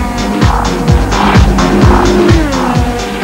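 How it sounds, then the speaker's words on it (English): A Formula 3000 race car screams at full throttle through Eau Rouge at Spa during qualifying, its engine a loud, high, continuous howl with rapid rising pitch sweeps as gears change, close and relentless. "for the Formula 3000 boys, it's foot to the floor all through Eau Rouge"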